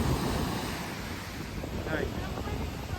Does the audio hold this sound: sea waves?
yes